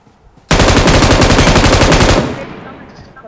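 Loud bursts of rapid automatic gunfire from a mobile battle royale shooter, firing continuously for nearly two seconds and then trailing off into quieter game ambience.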